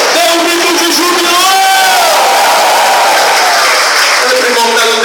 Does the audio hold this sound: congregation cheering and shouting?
yes